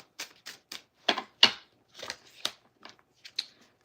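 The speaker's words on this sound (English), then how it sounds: "I'm going to shuffle 3 more times." Tarot cards being shuffled in a quiet room, a run of about a dozen short, crisp riffling bursts in irregular rhythm, close and fairly clear, with no talking.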